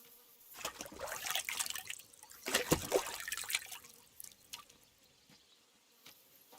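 Splashing and dripping water as a character washes in Kingdom Come: Deliverance 2, with a burst of louder sloshing in the middle and quieter trickles before and after.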